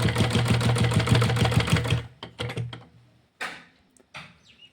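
A sewing machine stitches a seam on a cloth wrestling langot for about two seconds and then stops, followed by a few sharp handling clicks and taps.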